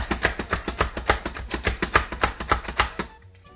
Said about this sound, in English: So I'm just chopping these mushrooms up finely.